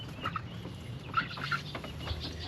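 Chickens cluck softly in a backyard garden, a few short, scattered calls over quiet background noise.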